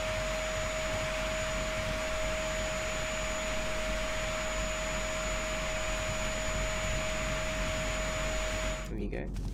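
An in-game vacuum cleaner in the indie game A Good Husband hums continuously and evenly at moderate loudness, a steady droning tone that stops abruptly at the very end.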